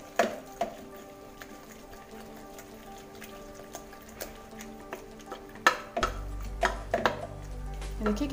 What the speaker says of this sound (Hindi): अब इसे हम मथनी की सहायता से मथ देंगे।